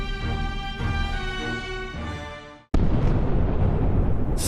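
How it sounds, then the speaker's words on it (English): A sustained tonal rumble cuts off abruptly before a loud, broad explosion burst in a video game, the roar lingering and crackling after the blast. "The explosion alone couldn't have caused this."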